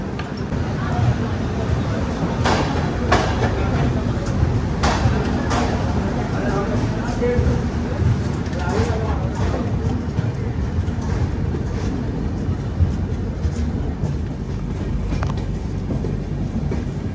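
A passenger train on the Danapur–Secunderabad route pulls out of Kazipet station, its wheels beating a steady clickety-clack on the rails with a constant rumble and sharp intermittent clanks, while a voice talks over the noise.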